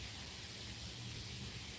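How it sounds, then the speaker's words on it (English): Light rain falls steadily during stormy weather with thunder rolling, heard as a faint, even hiss with a low rumbling undertone and no voices. "Got thunder rolling, dark clouds everywhere, a little bit of rain, so kind of weird weather going on."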